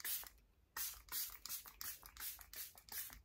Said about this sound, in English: the setting spray goes everywhere apart from right underneath my eyes